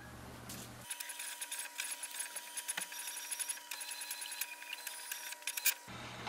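An HP Envy Pro 6430 printer runs off an alignment page, producing a steady mechanical whir with light ticking and clicking for about five seconds before stopping, close by.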